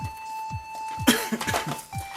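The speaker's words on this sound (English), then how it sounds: "excuse me if I'm coughing" A person coughs twice in quick succession, a pair of sharp, close bursts that break through a room with a steady electronic tone humming behind.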